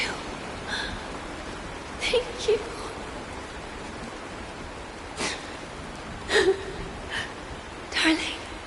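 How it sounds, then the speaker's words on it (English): Soft, continuous rainfall hisses evenly behind a few short voiced gasps and quiet words spoken at intervals. "This is the sound of rain."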